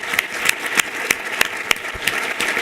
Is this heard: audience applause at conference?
yes